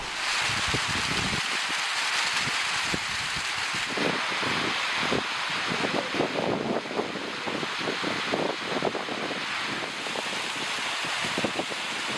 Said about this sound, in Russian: А сейчас вот налетели тучи, налетел ветер, и прямо холодно.